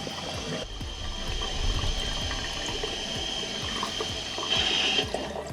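Water rushes steadily into a Kohler one-piece toilet tank after a new flush flapper is installed, a continuous close hiss and gurgle with a brief louder surge near the end.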